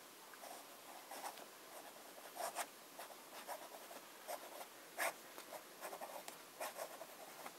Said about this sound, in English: Well, let's start with some simple writing.